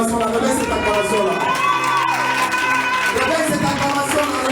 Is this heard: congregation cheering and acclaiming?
yes